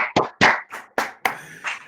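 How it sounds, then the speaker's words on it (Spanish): A few sparse, separate claps sound close by at a university master's farewell ceremony, irregular and uneven rather than a full round of applause. "pues yo creo que habría que darle un aplauso."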